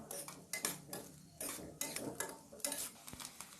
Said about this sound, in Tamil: தேங்காய் லைட்டாக சவக்கிற வரைக்கும் நல்லா வறுத்து விடுங்க